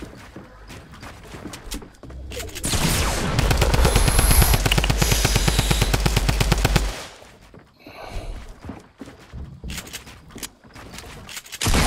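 Rapid automatic gunfire in the battle royale game Fortnite: a dense, loud burst of fast regular shots lasting several seconds, then quieter scattered game noise.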